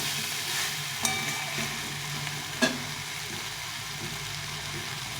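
Vegetarian curry frying and cooking down in a pan as it is stirred, giving an even, close sizzle throughout, broken by two sharp utensil clicks against the pan.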